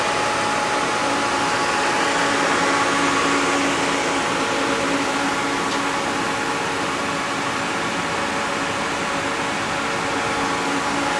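A Citizen A32VII CNC Swiss lathe with freshly rebuilt spindle bearings runs in, giving a steady, even mechanical whir with a faint tonal hum throughout. There is no talking.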